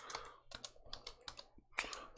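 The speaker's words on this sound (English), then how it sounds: "excuse me about my typing" Quiet, close keystrokes on a computer keyboard come in quick irregular clusters of clicks with short pauses between bursts, heard alone without talk.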